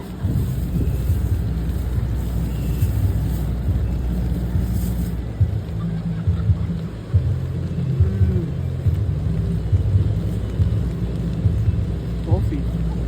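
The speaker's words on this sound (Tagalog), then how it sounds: "Uy, lakas ng ulan." Heavy rain pours steadily at a motorcycle campsite on Isla del Sol, with low thunder rumbling underneath throughout and a voice briefly heard near the end.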